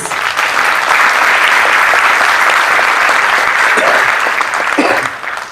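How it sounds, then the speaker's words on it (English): A steady burst of audience applause for the panel members at an official launch event, dense and sustained for several seconds before thinning out near the end. "I'd like you all to give a warm round of applause to our panel members"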